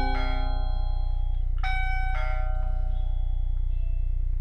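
Wireless doorbell rigged into a home automation setup chiming twice, a bright multi-tone ring followed by a second ring about a second and a half later, close and clear over a steady low electrical hum.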